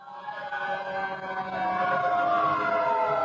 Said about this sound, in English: Here comes a 100-foot ladder truck.